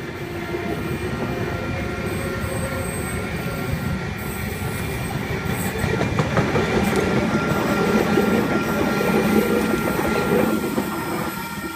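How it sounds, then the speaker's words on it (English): A Sydney Trains electric passenger train (Oscar H-set) rumbles steadily into Wondabyne station, wheels clattering and faintly squealing as it rolls along platform 2, with no talking. "Here we've got a train approaching platform number 2."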